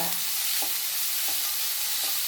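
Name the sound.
sautéing chopped shallots and coriander leaves in a pan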